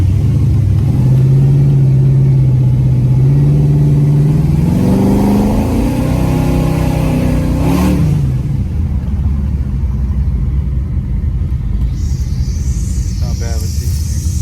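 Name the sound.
Impala SS engine running with rebuilt 4L60E transmission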